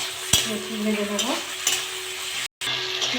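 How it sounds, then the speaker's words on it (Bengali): Prawns and onion fry in a pan with a loud, continuous sizzle, broken by scraping stirs and a few sharp clinks of a utensil against the pan, and one very brief dropout near the end. "চিংড়ি মাছগুলো একটু আমি হালকা ভাজা করে নিয়েছি"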